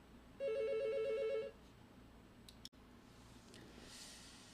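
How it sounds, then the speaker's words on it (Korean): A telephone rings with one long warbling electronic trill lasting about a second, fairly loud and close, followed by a click and quiet room tone. "전화가 왔네요"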